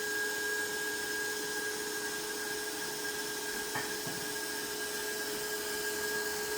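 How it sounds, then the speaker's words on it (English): An electric mixer whisks eggs in a large bowl for sponge cake batter, a steady, even motor whine close by with no speech. "I just grab a bigger bowl because I want to whisk this together."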